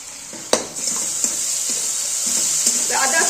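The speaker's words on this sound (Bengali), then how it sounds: "আদা, পেঁয়াজ, রসুন একটু ভালো মতো কষিয়ে নেব।" Ginger paste, onion and garlic sizzling in a pan while being stirred for a fish curry, a steady hissing fry with a few sharp scrapes and clinks of the spoon.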